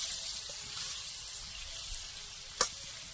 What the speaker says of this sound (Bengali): কাঠের উনুনে চিংড়ি মাছের রান্না করছি